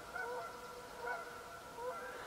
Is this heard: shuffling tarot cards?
no